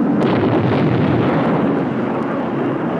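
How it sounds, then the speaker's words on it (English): Flat-nosed bombs exploding in a 1963 tactical weapons test: a loud, continuous rumbling blast roar with a dense low-frequency wash, heard alone without talk for the full three seconds. "Flat-nosed bombs."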